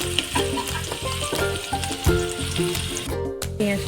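Chopped onion hitting hot oil with a bay leaf in a pan gives a steady, close, dense sizzle that runs the whole time with no talking.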